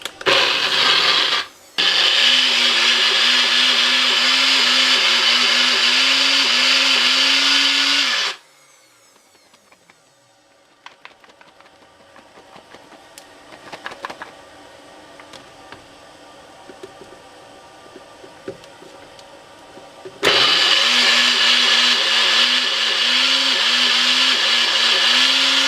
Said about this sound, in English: Now let me mince up my garlic.